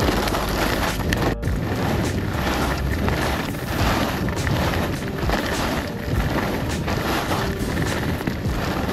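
Strong wind gusting across an exposed ski slope on Mammoth Mountain, a steady loud roar with buffeting microphone noise throughout and no voices.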